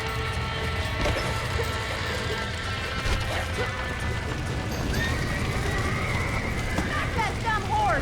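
Horses in the video game Red Dead Redemption, with hooves clip-clopping and a neigh rising over a steady busy game soundscape, while someone talks over it.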